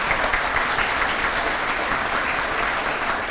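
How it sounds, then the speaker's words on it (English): Dense, steady applause fills the hall at a Tampa Fire recruit class graduation, a loud, even wash of many hands clapping together for the full few seconds with no break. "Round of applause on that."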